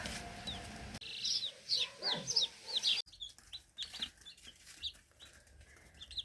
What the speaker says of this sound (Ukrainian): Ось усі курчатка.